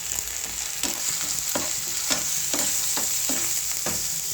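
Ginger garlic paste with cumin frying in a pan, a loud continuous sizzle broken by regular scraping strokes of stirring, roughly every half second, with no talking.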